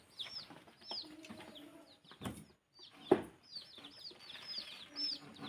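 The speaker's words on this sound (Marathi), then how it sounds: "पिल्लांचं नाव कावेरी कोंबडी." Kaveri breed chicks in a box give off many high, thin peeps, repeated rapidly and overlapping throughout, with a few soft thumps and shuffles from inside the box.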